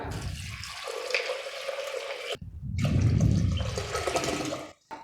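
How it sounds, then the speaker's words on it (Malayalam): Water pours into a pressure cooker holding dal for Kerala sambar, a loud, steady splashing stream that runs for a couple of seconds, breaks off briefly, then resumes with heavier gushing before stopping. "ഇനി ഇതിലേക്ക് നമുക്ക് ആവശ്യത്തിന് വെള്ളം ഒഴിച്ചു കൊടുക്കാം."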